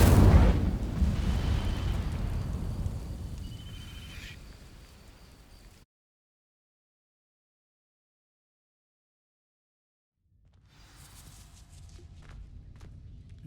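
A fiery burst from the Incendio spell igniting dry vines in Hogwarts Legacy, a loud roaring whoosh that fades out over several seconds, followed by silence and then quieter rumbling game ambience.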